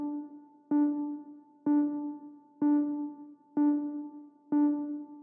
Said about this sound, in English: And it opens with the single beep sound